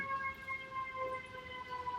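An emergency vehicle siren sounds in the distance in Sherman Oaks, a faint steady wail with sustained tones drifting under the background hum.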